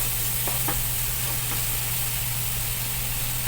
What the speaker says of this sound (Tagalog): Ayan, isunod ko na yung ating onion.